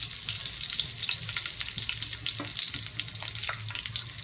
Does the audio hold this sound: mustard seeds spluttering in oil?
yes